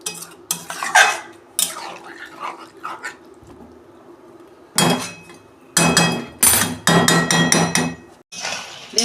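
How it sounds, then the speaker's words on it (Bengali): Mutton is stirred and sautéed in a pan, with loud, close clanks and scrapes of a utensil against metal coming in irregular bursts between quieter gaps. "এইটা আমি 10 মিনিট মতন কষাবো।"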